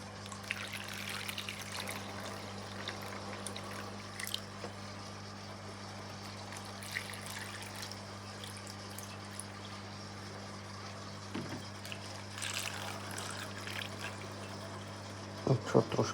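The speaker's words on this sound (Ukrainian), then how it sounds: "наливаємо водичку" Water is poured into an aquarium holding an Aulophorus worm culture, a faint, steady trickle beneath a constant electrical hum, with a few soft knocks near the end.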